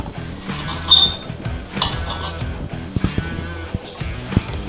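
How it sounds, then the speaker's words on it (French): An onion being cut on a board in a home kitchen, with irregular close knife taps and clinks of utensils against dishes spread over a few seconds. "Je suis en train de couper l'oignon."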